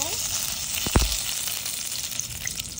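Bay leaves and cinnamon fry in hot ghee for pilau with a close, steady sizzle, broken near the one-second mark by a sharp clatter or two from stirring.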